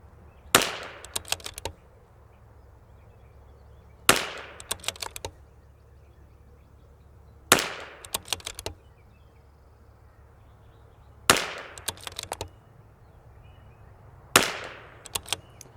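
Rifle shots from ELEY match .22LR ammunition at a range: five sharp cracks spaced roughly three to four seconds apart, each followed by brief quieter clicks of the action cycling, over a low steady outdoor background with no speech.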